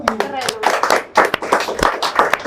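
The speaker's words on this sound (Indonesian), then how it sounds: "tepuk tangan" A few people clap briefly in a studio during a chat show, scattered sharp claps mixed in with close talking voices.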